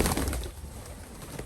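Domestic pigeons in a village yard give a soft, low cooing that is faint and close, with no talk over it.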